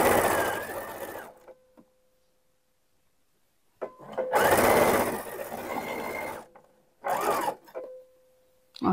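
A domestic sewing machine stitches down a pocket on a pair of men's shorts, running in three or four short mechanical bursts separated by pauses, with a faint steady hum in between.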